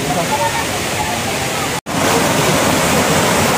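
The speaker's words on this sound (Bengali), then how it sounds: "বামনি ফলস একদম অনেক উঁচুর থেকে ঝর্ণা নিচে আসছে" Bamni Falls in Purulia drops from a great height, producing a steady, loud broadband roar of falling water that fills the whole stretch, broken only by a brief gap in the middle.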